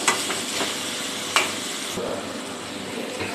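Tomatoes and onions sauté in a pan with fennel seeds, giving a soft continuous sizzle with a few sharp scrapes of a spoon against the pan, and no voices.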